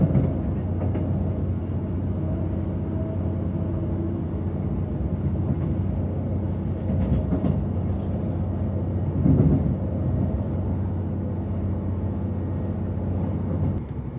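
An EMR Class 158 diesel train cruises along the rails near Ely North Junction, heard from inside as a steady low rumble and engine drone with a few brief clunks.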